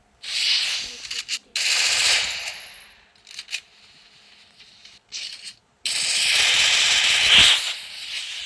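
Rapid automatic gunfire in the Free Fire mobile game, several loud bursts separated by pauses, with a long final burst.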